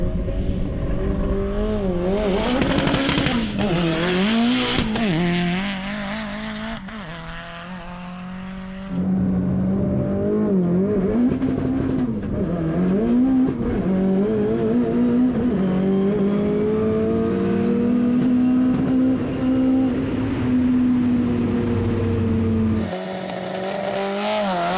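A 900-wheel-horsepower Mitsubishi Lancer Evolution VI drag car with turbo, nitrous and a PPG dog box screams loudly, revving and climbing through shifts with a sharp break partway, then holding a sustained high-pitched engine wail before cutting off.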